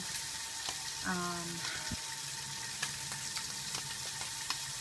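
Steak frying in a pan, a loud, steady sizzle and crackle close up, broken by a short tonal squeak and a few light clicks.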